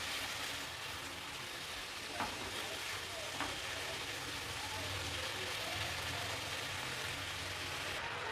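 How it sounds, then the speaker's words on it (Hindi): Chicken pieces fry in a pan over a medium-low flame as a pizza topping, giving a steady, dense sizzle throughout, with a couple of faint clinks. "चिकन का कलर जो सा है वो चेंज होने तक इसको इसी में फ्राई करेंगे हम लोग"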